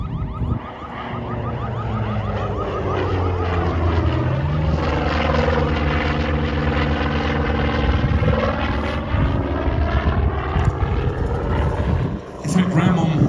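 A loud aircraft engine drones steadily at an airshow training day in Leszno, with rising and falling pitch sweeps as the plane passes, sustained and close throughout.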